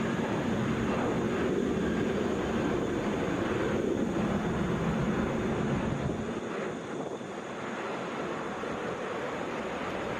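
A Boeing 757 arrives at Atlanta International Airport, its jet noise a broad, steady rumble that eases and drops somewhat near the end, with no talk over it.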